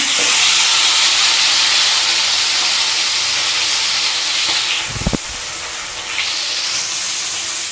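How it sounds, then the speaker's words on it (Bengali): Marinated chicken hisses loudly in a hot wok, a broad, steady sizzle that swells again after a short dip and a couple of soft clunks from the pan. "মাংসটা ভালোভাবে ম্যারিনেট হয়ে গেছে এবার আমি কড়ার মধ্যে দিয়ে দেব"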